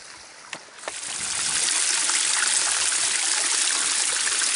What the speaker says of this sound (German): Da kommt das Wasser oben aus der Quelle.